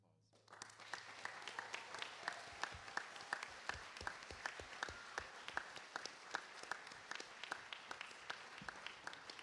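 Applause at a model UN opening ceremony starts after a brief pause and swells into sustained clapping from a large hall audience, with some individual sharp claps standing out near the front.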